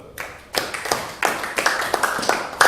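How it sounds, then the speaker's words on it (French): A church congregation claps for a brother in short uneven bursts, individual hand claps standing out close by, growing denser toward the end. "est-ce qu'on peut applaudir pour notre frère?"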